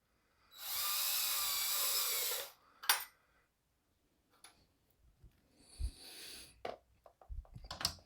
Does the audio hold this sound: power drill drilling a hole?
yes